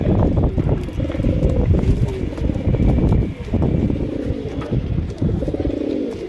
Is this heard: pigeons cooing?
yes